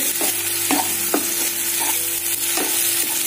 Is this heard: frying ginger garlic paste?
yes